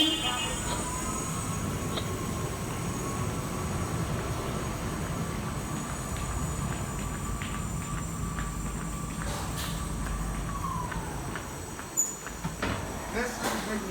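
A rail train runs through a warehouse pick tunnel with a steady, loud rumble and a thin squealing tone that fades near the end, followed by a brief clunk.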